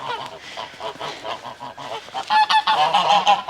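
Geese honk repeatedly in a lively, close flock, with several overlapping calls building louder toward the end; goslings are among the birds, which splash water out of a pen pool shared with chickens.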